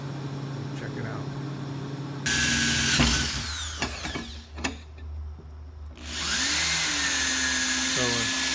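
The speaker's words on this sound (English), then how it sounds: "So we're making our holes for the plate." A power drill boring holes for a mounting plate on a 1965 Ford Falcon race car build, a steady whine starting after a couple of seconds, pausing briefly, then resuming, with a voice talking in a workshop.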